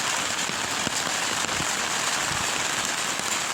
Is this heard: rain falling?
yes